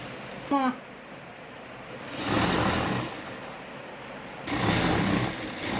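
A sewing machine stitches a coat in two sustained runs of fast, buzzing stitching, close and moderately loud, with a brief squeak before the first run.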